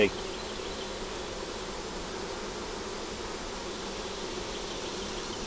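Dense, continuous buzzing of many honey bees at an open hive fills the air, a steady droning hum close by with no pauses.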